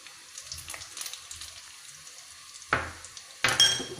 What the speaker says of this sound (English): And stir fry it together.